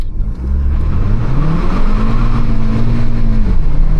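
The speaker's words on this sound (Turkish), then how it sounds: "Bir şöyle gazlamaya başlayalım. Araç S modunda hemen şöyle hızımızı aldım." A Volkswagen CC Sportline with a 1.4 TSI 160 hp engine revs hard while accelerating in S mode, its loud, close engine note climbing steadily in pitch and holding high before easing slightly near the end.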